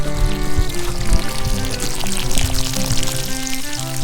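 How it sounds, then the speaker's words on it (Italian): Water gushes steadily from an irrigation system being drained with its cap removed, a loud continuous pouring rush with no pauses. "Qui vedete ho tolto il tappo e lui si sta svuotando alla grande."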